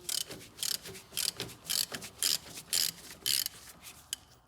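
A ratchet with a 16mm socket on a long extension cranks a bolt loose on a lawn mower hydro drive, giving about nine evenly spaced bursts of rasping clicks close to the mic.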